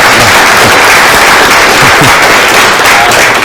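An audience claps at the close of a talk on emotional intelligence, producing a loud, dense, unbroken roar of hands that fills the room from start to finish.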